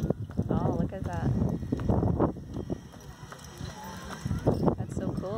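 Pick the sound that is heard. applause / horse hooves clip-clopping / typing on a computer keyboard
horse hooves clip-clopping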